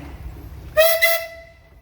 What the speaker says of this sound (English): How about a whistle there, Rob?